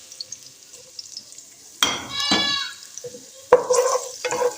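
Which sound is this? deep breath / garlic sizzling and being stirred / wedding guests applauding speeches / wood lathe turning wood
garlic sizzling and being stirred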